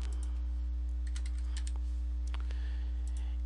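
Someone types an ID number on a computer keyboard while setting up a TeamViewer remote connection, giving a quick run of close, light key clicks in short bursts over a steady low electrical hum.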